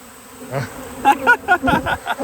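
Honeybees buzz loudly and close at the entrance of a hive, their droning rising and falling in repeated surges over a steady background hum.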